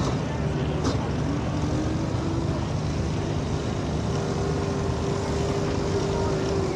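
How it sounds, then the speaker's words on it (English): A pulling tractor's engine drones loud and steady at a Saturday night tractor pull, a continuous rumble running the whole stretch without letup. "He's a good running tractor, Dan, that's for sure."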